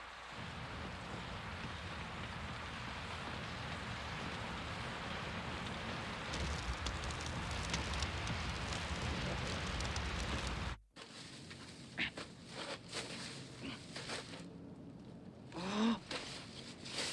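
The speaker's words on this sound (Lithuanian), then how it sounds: "Po bombardavimo lietus visada tamsus." Steady rain falls after a bombing raid, a dense continuous wash that stops abruptly partway through, leaving quieter scattered drips and faint ambient sounds.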